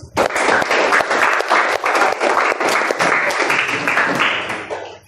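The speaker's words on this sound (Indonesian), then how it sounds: "Oke, silakan duduk, kita beri aplaus." Students in a classroom break into dense, sustained applause after group presentations, loud and close, lasting about five seconds before it tapers off.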